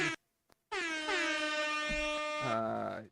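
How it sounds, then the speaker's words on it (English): A brief click, then a loud blaring air horn held for over two seconds, bright and brassy with a slight pitch shift near the end. "Air horn."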